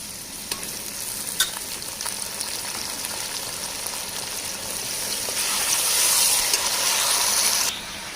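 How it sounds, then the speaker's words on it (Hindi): Beef fries in a pot for pulao, giving a continuous moderate sizzle with scraping stir strokes, and the hissing grows louder and brighter toward the end before dropping off. "तो इसमें अब हम अपना गोश्त डालेंगे,"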